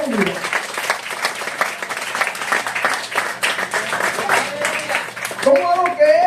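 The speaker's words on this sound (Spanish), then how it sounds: "Den un aplauso a Jesucristo." A church congregation applauds in a steady dense patter of clapping, with a preacher's voice sounding over it toward the end.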